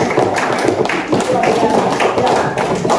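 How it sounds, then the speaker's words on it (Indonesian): Classroom applause for students, a dense patter of hand claps filling the clip at close range, with voices mixed in beneath the clapping. "Oke, sekali lagi kita beri tepuk tangan untuk mereka."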